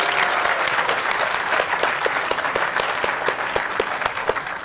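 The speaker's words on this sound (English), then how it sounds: "Let's give them another round of applause." Audience applause for the sponsors at a conference plenary session: steady, dense clapping from a large room that holds at a constant level throughout, with no voices standing out.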